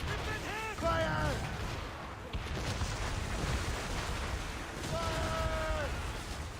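Ship cannons fire during a naval battle with Royal Navy brigs in the game Assassin's Creed Rogue, as deep rumbling booms over a constant sea-and-wind bed, with shouted voices heard over it.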